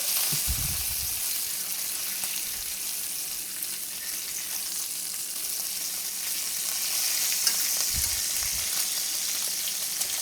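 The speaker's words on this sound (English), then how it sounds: "Okay, so our bacon is cooking quite nicely. Gonna give them a flip." Bacon frying in a pan, a steady close sizzle with a bright hiss throughout and a couple of soft low thumps as the strips are moved.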